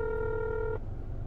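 A steady telephone ringing tone from an unanswered phone call sounds for under a second and then cuts off abruptly, over a low, constant background rumble.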